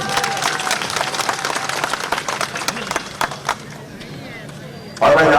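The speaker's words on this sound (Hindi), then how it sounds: "सही बताइए, सच्चाई है कि ताली बजाइए।" Crowd clapping at a public rally addressed by Defence Minister Rajnath Singh in Dumka, sharp dense claps that thin out and fade midway, followed by a short loud burst near the end.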